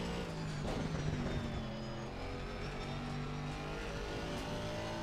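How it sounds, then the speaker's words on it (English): Aston Martin race car lapping Brands Hatch circuit, its engine droning steadily and loud from close by, pitch rising and falling through the gears with a faint tire squeal, alone without talk. "The Aston is such a nice car to drive."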